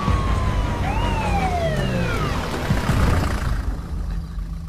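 Wailing siren of an ambulance, a few rising and falling sweeps heard over traffic and background rumble, fairly close and loud, then fading out.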